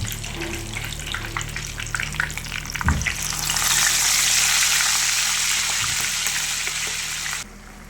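Beef sizzling in a pan for chilli beef fry, a steady hissing fry that grows louder and denser midway, with a clank near the start and an abrupt drop near the end.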